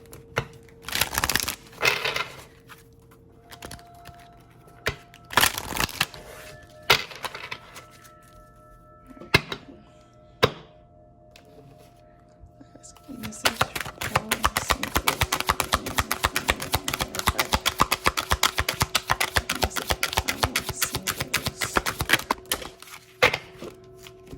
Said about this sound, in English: Shuffle this 2 more times.